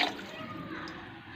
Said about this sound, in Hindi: 3 बाउल पानी के डाले हैं